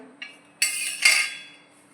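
Freshly washed kitchen knives are wiped with a dry cloth, giving a few light metallic clinks followed by two short bursts of rubbing and scraping, close and quiet.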